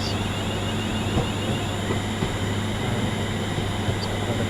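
A Class 350 electric train in Train Sim World 6 rolls along a snowy route, a steady loud rumble of wheels and motor with faint rhythmic clicks on the track.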